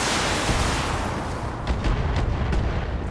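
Mech weapons firing in the BattleTech video game, a dense continuous barrage of booming gunfire and explosions with a few sharper crackling bursts toward the end, loud and steady throughout with no talk.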